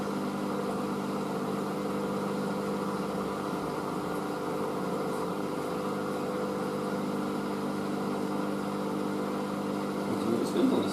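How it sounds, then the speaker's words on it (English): A Hoover SIX AAA160 AAA Whisper 1600 washing machine runs an intermediate spin on a Speed Wash 50ºC programme, giving a steady, even motor hum and drum whir with a constant level throughout. "This is the first intermediate spin."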